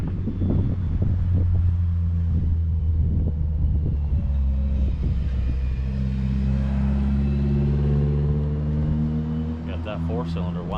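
A four-cylinder outboard boat engine revs hard and steady, a loud droning rumble with wind buffeting the microphone, on a fall crappie fishing trip on Lake Erie, Ohio.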